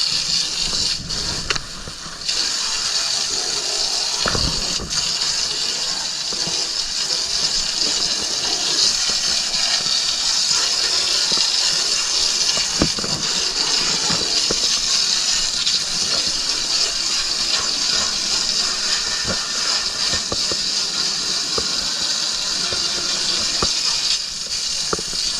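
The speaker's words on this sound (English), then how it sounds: "I'm going to spray it down with water." Water sprayed from a hose across the floor of a Yamaha FSH 255 boat as its floor mats are removed. The spray runs as a steady, close rushing hiss with small clatters and splashes.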